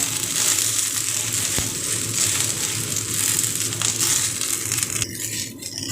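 Sliced okra (bhindi) fries in a hot pan with a loud, close, crackling sizzle that runs steadily, roughening briefly near the end as the pieces are moved; no talking.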